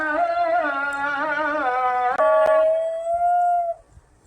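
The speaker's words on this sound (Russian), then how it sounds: "Все собаки в Турции, когда звучит азан, молитва, они обязательно все поют." A dog in Turkey howls along with the call to prayer, one long, wavering, melodic howl held for several seconds, close and loud, with a faint second voice joining and no speech.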